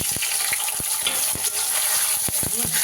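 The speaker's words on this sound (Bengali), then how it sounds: "তেল গরম হয়ে গেছে, পনিরটা ভেজে নেব।" Paneer frying in hot mustard oil in a kadai, a steady loud sizzle with scattered sharp pops and spatters from close by.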